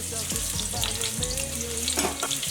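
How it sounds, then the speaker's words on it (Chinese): Shredded ginger hitting hot cooking oil in a wok, a loud, close crackling sizzle with bursts of spitting, no voices. "锅中倒点食用油，油热放入姜丝，"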